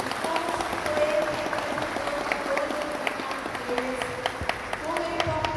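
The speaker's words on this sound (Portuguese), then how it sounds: "todos dessem uma salva de palmas para ele" An audience at a symposium in Caruaru, Pernambuco, claps in a sustained, even wash of applause mixed with crowd murmur, with voices calling out faintly beneath it.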